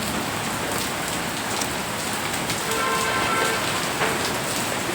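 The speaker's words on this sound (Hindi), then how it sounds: "ये देखो कितने मोटे मोटे ओले पड़ रहे हैं" Heavy hail and rain pour down during a storm over an outdoor religious night gathering, a dense, steady roar of drops and pellets with scattered sharp impacts and no voices.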